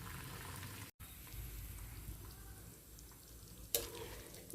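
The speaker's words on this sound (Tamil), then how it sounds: "இதை பாருங்கள் நல்லா கொதிச்சுட்டு இருக்கு." Beetroot pulao rice boiling in a pot: a soft, steady bubbling and simmering hiss that continues throughout at low volume, with one faint clink near the end.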